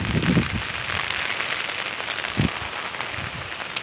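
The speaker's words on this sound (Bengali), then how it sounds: "খুব বৃষ্টি, বেরোতে পারছি না বাড়ি থেকে" Heavy rain pours steadily outside a house, a dense continuous hiss with occasional heavier drops and splashes striking surfaces nearby.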